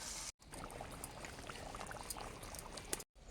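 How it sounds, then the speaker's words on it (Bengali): Water pours steadily into a pot of mutton curry for gravy, a close, continuous splashing stream lasting a few seconds with no talking. "মাংস কষানো হয়ে গেছে, এখন পরিমাণ মতন ঝোলের জন্য জল দিয়ে দেবো।"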